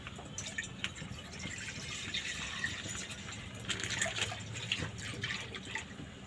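Water poured into a hot pan before heating milk, a steady liquid splashing and trickling that continues throughout at moderate level, with no voices.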